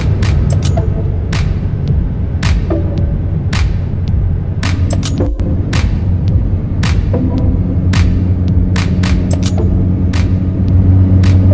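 Inside an Alpine A110 R cruising on the highway at 130 km/h, a loud, steady low engine and road rumble fills the cabin, with sharp clicks and knocks popping up throughout.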